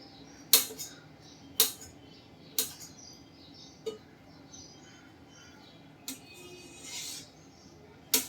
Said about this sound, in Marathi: अशा पद्धतीने आपण फोडी करून घेणार आहोत बटाटे